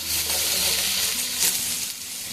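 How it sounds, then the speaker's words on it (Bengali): A bay leaf and a dried red chili fry in hot oil in a pan, giving a dense, even hiss of close, loud sizzling that holds steady throughout without speech. "একটা তেজপাতা, একটা শুকনো লঙ্কা, এবারে এগুলোকে সব ভেজে নেব খুব ভালো করে।"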